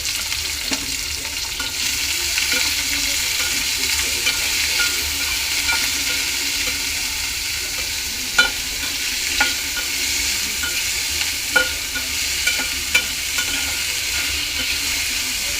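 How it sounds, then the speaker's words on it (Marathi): Tomatoes and onion frying with curry leaves in a kadhai for a ridge gourd and moong dal dish: a loud, steady close sizzle throughout, with a few light ladle taps and no voices. "कढीत हे टमाटर आणि कांदा टाकून घेऊया।"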